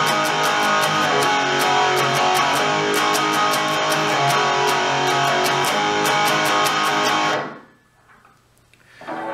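Distorted electric guitar plays the Green Day Jesus of Suburbia riff, loud and dense with sharp rhythmic picking, then stops abruptly into quiet near the end.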